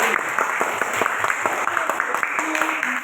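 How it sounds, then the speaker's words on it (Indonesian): Classroom applause for a student group in an Indonesian school lesson, a steady patter of many hands clapping together over about three seconds, with faint voices underneath. "Tepuk tangan untuk kelompok B."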